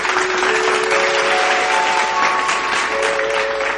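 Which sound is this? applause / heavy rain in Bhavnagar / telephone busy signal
applause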